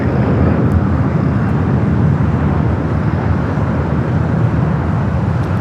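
A Boeing 747-8 freighter taking off on the south runway at LAX, a steady broadband roar that stays loud and constant throughout with no talk.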